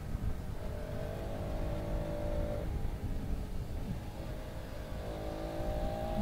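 A 390 motorcycle with a tightened tail is heard on a Sunday group ride, a steady engine drone with a faint rising and falling whine over constant road rumble, quiet and without talk.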